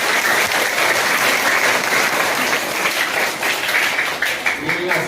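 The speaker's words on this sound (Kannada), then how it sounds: "ಒಂದು ದೊಡ್ಡ ಚಪ್ಪಾಳೆ ಅವರಿಗೆ" An audience at a student-welfare foundation event in Bengaluru breaks into sustained applause, dense and steady clapping from a large crowd filling the whole stretch without letup.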